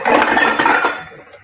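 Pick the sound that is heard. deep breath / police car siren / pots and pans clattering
pots and pans clattering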